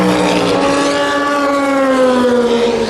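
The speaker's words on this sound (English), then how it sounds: "I thought you might like to hear the sound of the cars." Race cars at the Le Mans 24 Hours at night roar through the Dunlop Bridge and Esses, a loud sustained engine howl whose pitch slides gradually downward as the cars pass, with no talk over it.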